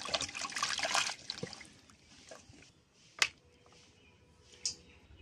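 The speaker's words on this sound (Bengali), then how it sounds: "ডাঁটাটা ধুয়ে নিচ্ছি, পেঁপেটা ধুয়ে নিচ্ছি।" Drumstick stems and papaya rinsed under running water, a close trickle and splash with a few sharp clicks and knocks, fading to quieter drips and light handling sounds.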